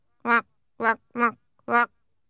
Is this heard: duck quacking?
yes